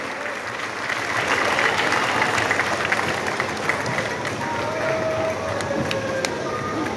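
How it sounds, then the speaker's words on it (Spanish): Public applause at a town fair dance festival in Olintla, a broad wash of clapping from an outdoor crowd under a faint announcer's voice and some background noise, with a thin tone sliding in near the end. "aplauso de parte del público"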